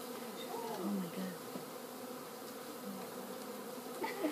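Bees buzz steadily throughout, a dense insect drone with a few louder passes close by, continuous and fairly near.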